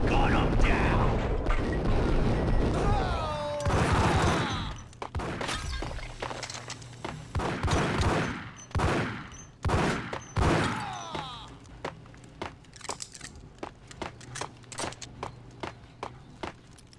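Gunfire in Max Payne, a series of sharp shots mixed with shattering glass and breaking debris, loud bursts spaced irregularly at first and then quicker individual cracks; a voice speaks briefly early on.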